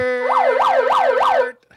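A siren sound effect wails in four rising and falling sweeps, loud and alone, then cuts off abruptly near the end.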